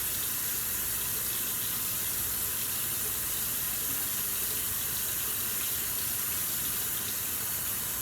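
A tap runs steadily into a sink while a soapy rag is rinsed under it, giving a constant close hiss of water with no break and no talk.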